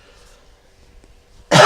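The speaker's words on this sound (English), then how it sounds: "gonna cough." A single loud cough bursts out close to the microphone after a near-silent stretch, muffled as if covered by a hand.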